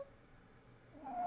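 A cat meows once near the end, a short close cry rising out of quiet room tone, with no talking.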